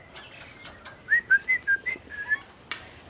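A series of clear, fluting currawong calls, several rising and falling notes in quick succession, close by, with a few soft taps and rustles around them.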